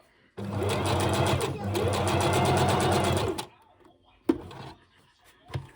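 A sewing machine runs for about three seconds without stopping, top stitching a washable face mask. It is loud and close, with a brief hitch partway through, and quieter handling clicks follow.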